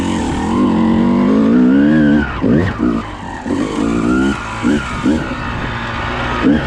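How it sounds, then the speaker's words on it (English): A Yamaha YZ250 two-stroke dirt bike held in second gear on a trail ride, its engine loud and close with a rising, warbling note that surges and falls as the throttle opens and closes. "So that was all second gear right through there. Seems like the YZ does okay. Listen to that carburetor."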